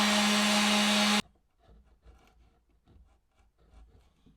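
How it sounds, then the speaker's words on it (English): Close, loud power sanding on wooden router rail boxes runs steadily for about a second and then cuts off abruptly, leaving only faint rustling and handling noise. "So I'm going to go ahead and sand the boxes so that they're below the surface"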